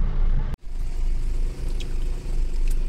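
Road traffic rumbles steadily on the hill roads of Nainital, a continuous low engine drone from cars with a brief dropout, heard with no talk.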